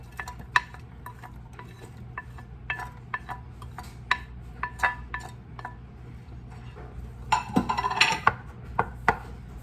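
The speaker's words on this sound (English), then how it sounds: "Now we're just going to add our onions" Onions stirred in a hot pan for beef and broccoli, a steady sizzle under repeated clinks and scrapes of a utensil against the pan, close and busy, with a louder flurry of stirring near the end and no talk.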